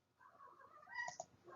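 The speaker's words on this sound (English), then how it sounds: "you can probably hear I have a cat here who's wanting to play" A cat wanting to play gives a few short meows and trilling calls, fairly quiet and close in an indoor room.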